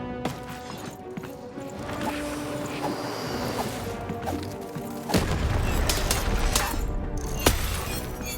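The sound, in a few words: cannon firing in the video game Lost in Random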